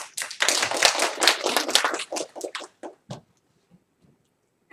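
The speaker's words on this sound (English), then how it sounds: "Just give yourself a round of applause." An audience claps in a round of applause at a group talk, a dense burst of many hands that thins out into a few scattered claps and then fades to silence.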